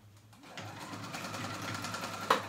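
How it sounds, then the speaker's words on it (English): A sewing machine sews a long basting stitch in a steady whirring rhythm, starting up after a brief pause, with a faint click near the end. "Come on, sewing machine."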